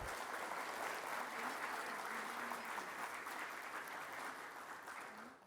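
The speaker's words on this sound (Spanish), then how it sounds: "Un fuerte aplauso para él" An audience at a maintenance engineering event in Peru gives a speaker a loud round of applause, dense sustained clapping that holds steady and tapers slightly toward the end.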